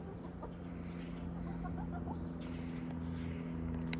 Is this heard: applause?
no